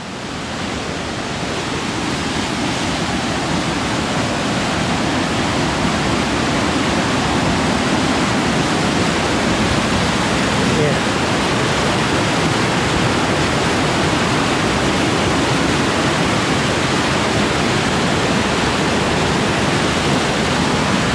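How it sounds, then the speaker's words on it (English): Beaver Brook Falls pours in a steady, loud broadband roar of falling water, constant and close for the whole stretch with no voices over it. "Beaver Brook Falls."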